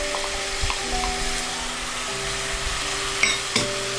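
Tomatoes going into a hot frying pan for Mexican chicken set off a steady, crackling sizzle, close and even, with a few sharp clinks of utensils against the pan near the end.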